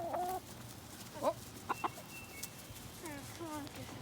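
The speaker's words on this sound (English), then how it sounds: "Chickens!" Backyard coop chickens cluck in short, scattered bursts, fairly close but not loud, with a quiet pause midway and more low clucks toward the end.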